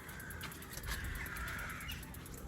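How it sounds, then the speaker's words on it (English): Faint crows caw a few times in the distance over a steady outdoor background hum on the Isle of Wight. "I think the crows are encircling us"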